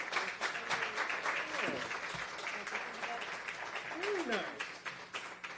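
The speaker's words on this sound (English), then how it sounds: "let's give him a warm applause" An audience at a corporate strategy lecture applauds warmly in a steady, sustained patter of clapping. Voices talk over the applause throughout.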